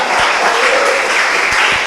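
A congregation at an evening Portuguese-language church service bursts into applause: a close, loud, dense burst of clapping that stays full and even for the whole short stretch.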